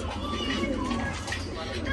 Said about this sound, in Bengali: ড্যানিশ এক জোড়া ডাকছে দেখুন